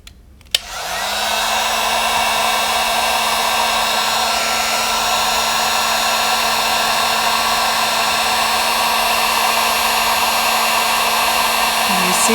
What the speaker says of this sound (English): So I have my heat gun. I'm only going to put it on a low setting.